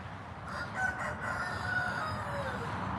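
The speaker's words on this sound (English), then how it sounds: "Do you guys hear the chickens?" Chickens cluck and a rooster crows faintly in the distance over steady outdoor background noise.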